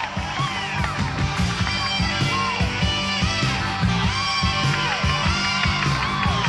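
A crowd at a 1996 NCAA women's gymnastics meet between UCLA and BYU cheers and whoops loudly and steadily, with scattered yells over music that has a bouncing beat.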